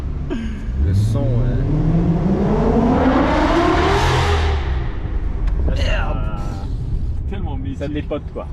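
An Audi S8 sedan's V10 engine revs hard and close, its pitch sweeping steadily upward over several seconds before easing off, loud and sustained, with voices in the background.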